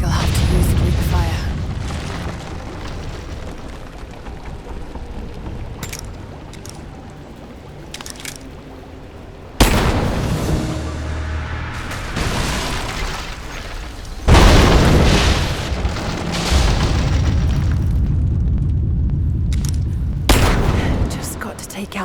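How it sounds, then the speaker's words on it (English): Heavy booms from Greek fire explosions bringing down supports at the Acropolis in Rise of the Tomb Raider, several loud blasts spaced over the stretch with rumbling debris and crackle, under intermittent speech. "Looks like I'll have to use Greek fire."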